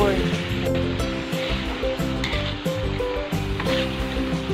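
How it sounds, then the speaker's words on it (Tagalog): Chicken pieces frying in their own rendered fat in a pan for tinola, a steady sizzle carrying through the clip with a strong low tonal hum and music-like background underneath. "Niluluto pa rin natin siya sa sarili niyang mantika."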